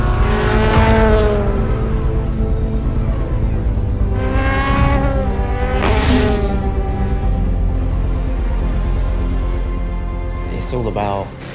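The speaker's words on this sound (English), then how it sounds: "Down to the pit lane, the number 7 Toyota begins its race." Number 7 Toyota hyper race car leaving the pit lane, a loud steady engine drone with rising revs that swell and fade in several surges, a brief higher whine near the end, voices talking over it.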